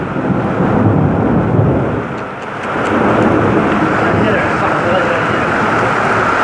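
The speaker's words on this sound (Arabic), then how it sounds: "يا ستير يا رب، يا ستير على البرق والرعد" Thunder rolls in a long, loud, continuous rumble during a heavy rainstorm over flooded streets in Egypt, with a brief dip midway before the roar returns.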